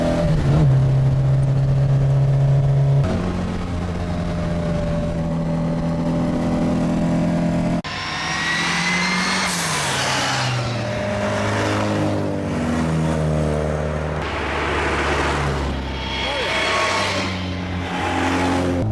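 A Mini Cooper's engine roars and revs continuously from inside the cabin, pitch climbing and falling through several gear changes, loud and close throughout.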